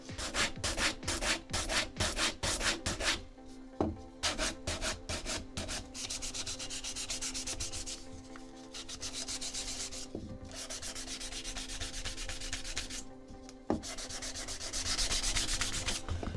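Steady abrasive sanding on small wood offcuts, chamfering all the edges, a close rhythmic rubbing that runs continuously with brief pauses and shifts in intensity.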